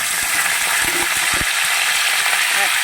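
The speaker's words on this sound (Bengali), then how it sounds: "তেলটা গরম হয়ে এসছে এরপর আমি কপিগুলোকে দিয়ে দেবো" Hot oil sizzles loudly and evenly in a pan for cauliflower, with a few low knocks and clatters of utensils in the foreground.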